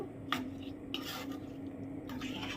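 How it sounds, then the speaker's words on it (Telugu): A spoon works through chicken mango pickle in a bowl, giving three short scraping, clinking strokes over a quiet, steady kitchen hum. "మొత్తం అంతా కలిసేలాగా కలుపుకోవాలి"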